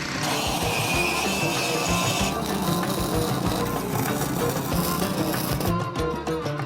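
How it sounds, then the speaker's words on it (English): An angle grinder runs steadily on a steel rail outdoors, its harsh, gritty whine continuous and close for several seconds, with a brief drop in the high hiss partway through. "Jeremy's got the grinder going."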